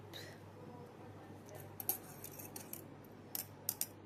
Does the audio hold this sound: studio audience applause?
no